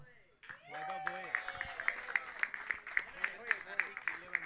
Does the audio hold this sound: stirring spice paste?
no